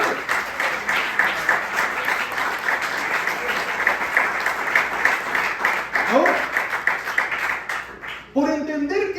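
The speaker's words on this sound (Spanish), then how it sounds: "¿Hay un fuerte aplauso a nuestro padre?" A church congregation applauds loudly and steadily for about eight seconds, the clapping thinning out at the end as a voice begins to speak over it.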